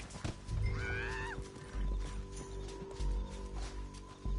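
A horse in the open-world western game Red Dead Redemption 2 gives a loud, quavering whinny near the start, with hoof clip-clops and thuds around it and low background sound throughout.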